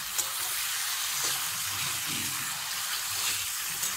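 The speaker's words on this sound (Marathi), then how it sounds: "आता परतून घेऊया आपण चांगलं" Spices with red chili powder and salt sautéed in a pan for a dhesa recipe, giving a steady close sizzle and frying hiss with occasional stirring scrapes, no voices.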